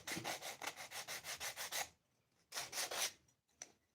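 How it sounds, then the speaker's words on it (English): Rhythmic sandpaper rubbing on the edge of a wooden box, about a dozen quick close strokes in a steady back-and-forth run, then a pause, a second burst of several strokes and one short final pass. "So, sand off this edge."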